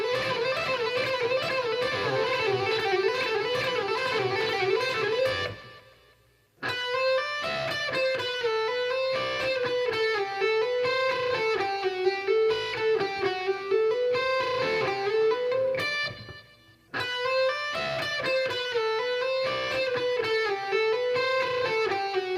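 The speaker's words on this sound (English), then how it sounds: "a little bit of barring, only in more of a regular diatonic scale type of an approach, and that lick would sound like this" Fast electric guitar lick using barring across strings in a diatonic scale, played clean and fluid as a rapid repeating run, with two brief pauses between phrases.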